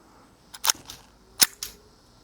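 A blowback budget plinker pistol fires in a backyard, giving two sharp, moderate cracks about a second apart, each followed by a fainter mechanical click.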